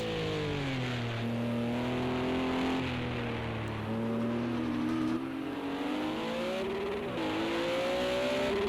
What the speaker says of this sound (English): You can hear this thing. It sounds like it's valve bouncing.